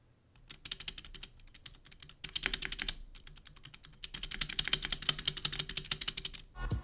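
Continuous typing on a Womier K66 acrylic RGB mechanical gaming keyboard, rapid clacky keystrokes in bursts with short pauses, close and clear with no talking.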